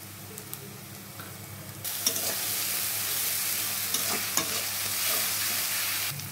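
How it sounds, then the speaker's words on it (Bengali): Ginger, garlic and onion paste hits hot oil with potatoes, jumping into a loud, continuous sizzle after a quieter start, with clinks and scrapes of a spoon stirring the pan close by. "এবার আমি দিয়ে দেবো আমার পেস্ট করা আদা রসুন পেঁয়াজ পেস্ট করা 2 চামচ।"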